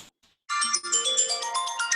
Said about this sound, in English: Uh-oh. Phone call.